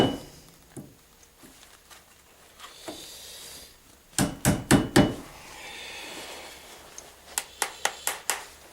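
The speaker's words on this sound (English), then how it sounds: "And then go ahead and peen that end." Hammer peening a rivet on a knife handle: two quick bursts of five sharp, ringing metallic taps each, close and clear, with quiet workshop pauses between them.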